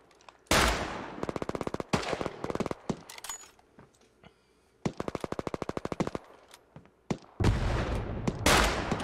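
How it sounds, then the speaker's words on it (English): Rifle fire from a suppressed rifle in the video game Hell Let Loose comes in several rapid, loud bursts of closely spaced shots, separated by short quieter gaps, with a heavier volley near the end. "Somebody's got a suppressed rifle."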